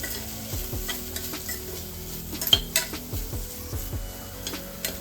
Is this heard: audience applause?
no